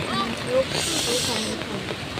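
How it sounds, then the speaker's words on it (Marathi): The Thoseghar waterfall near Satara makes a steady, broad rushing roar in rainy weather, with people talking over it. "धबधबा"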